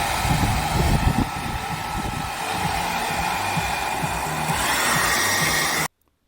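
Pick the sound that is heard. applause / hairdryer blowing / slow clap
hairdryer blowing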